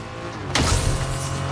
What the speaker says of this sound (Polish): Jest, jest samochód, słyszę.